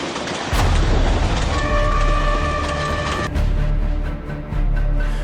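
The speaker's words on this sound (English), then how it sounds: "a Ukrainian train with multiple freight cars rumbled forward" A Ukrainian freight train with multiple cars rumbles along a railway at night. The roar is heavy and continuous, with strong low-end rumble and a brief tonal hum partway through, loud and close with no speech.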